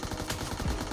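Rapid gunfire from the battle royale video game PUBG, a dense burst of close shots packed into about a second.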